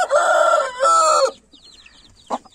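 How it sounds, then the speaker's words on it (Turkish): Indian Runner duck hen with six ducklings moves outdoors, giving loud, repeated harmonic calls for over a second, then brief high chirps and a short low call close by. "Görüyorsunuz, bunda 6 tane civciv var."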